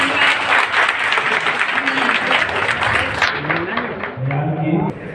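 Audience applause at an Ambedkar Jayanti 2023 gathering in Gomia, Bokaro, a dense steady clapping that fills the space and then thins after a few seconds, with voices and a tonal hum underneath.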